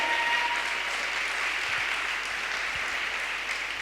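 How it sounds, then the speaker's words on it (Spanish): Church congregation applauding loudly and continuously, a dense, even wash of clapping hands that holds steady for the whole stretch. "Yo creo que Él merece un fuertísimo aplauso por lo que Él hizo."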